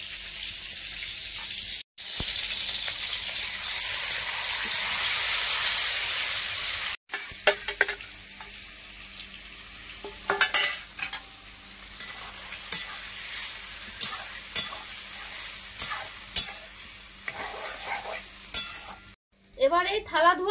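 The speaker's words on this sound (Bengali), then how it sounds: "এবারে মশলা মাখানো ঝিনুকটা দিয়ে দেবো।" Spiced oysters and tomato hit tempered oil in a pan with a loud, sustained sizzle, then give way to intermittent stirring scrapes and clinks over continued frying; a voice speaks briefly at the end.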